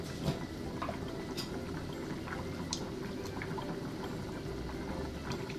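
A daikon and canned mackerel miso stew with mirin and ginger simmers in a pot, giving a steady, soft bubbling with small pops and drips throughout, close and continuous with no talk.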